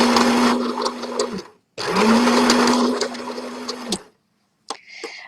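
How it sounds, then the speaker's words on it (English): Sewing machine back stitching across a seam of tie-dye fabric pieces for a shopping bag: two loud bursts of fast motor whirring and needle chatter split by a short pause, then silence and a few light clicks. "I'm going back stitching across that seam"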